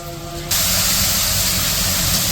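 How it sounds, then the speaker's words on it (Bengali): Spices being fried in a pan while cooking an ilish fish dish, heard as a sudden loud burst of hissing spray that starts after a quiet moment and holds steady and close for about two seconds. "তো এই যে মশলা তো কষাইতেছে"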